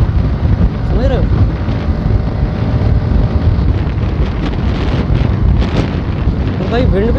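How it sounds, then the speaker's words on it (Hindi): Heavy wind buffets the microphone as a motorbike rides at 70 km/h through forested hill country, a loud, continuous low roar with gusty swells. A voice talks faintly under the blast in places. "भाई विंड ब्लास्ट इतना ज़्यादा लग रहा है"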